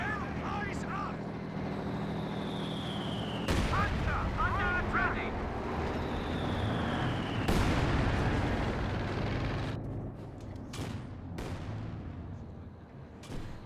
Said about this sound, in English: Oh, mortar barrages into the base.